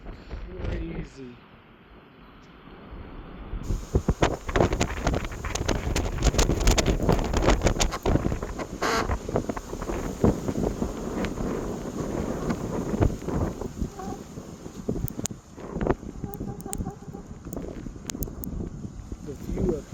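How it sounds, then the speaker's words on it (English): Strong gusting wind rising up a mountainside at a canyon edge in Colorado National Monument, roaring and buffeting the microphone close and loud almost throughout, with brief talking near the start. "You get close to that edge and the wind coming up the mountain is crazy."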